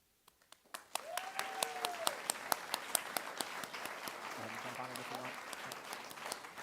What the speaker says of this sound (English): a rapturous round of applause for the winner of this award